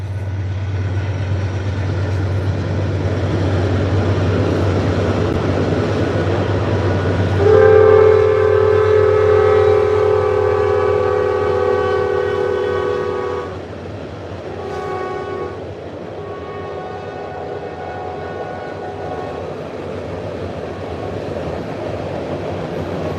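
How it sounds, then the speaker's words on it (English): A train rolls past beside a channel catfish spot with a steady low rumble throughout, then a long loud horn blast sounds in the middle and fades into clattering wagon noise, with a few shorter horn notes afterward. "Here comes another train coming the other way."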